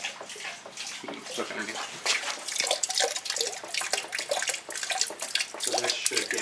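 Coolant from the lower radiator hose of a 1991 Nissan 300ZX splashes and trickles into a pan in a steady liquid stream close by, with a brief spoken remark over it.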